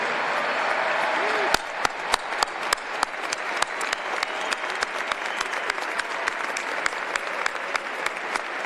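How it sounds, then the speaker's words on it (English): An audience applauding students, a burst of many hands clapping that starts abruptly and continues as dense, steady applause to the end. "Students, stand up. We want to applaud you."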